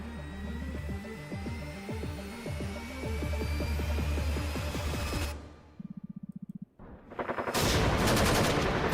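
Rapid video game gunfire in a horror shooter, bursts of automatic shots in a steady stuttering rhythm, a pause with a short buzzing rattle, then loud dense firing resumes.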